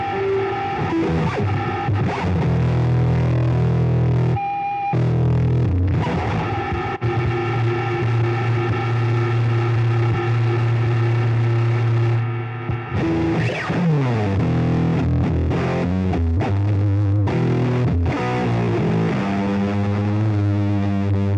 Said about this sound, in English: let's have some kind of heavy distortion in there as well.